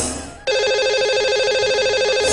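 A telephone ringtone on a radio call-in show starts abruptly and repeats in a steady electronic trill, loud and clear with no talking over it.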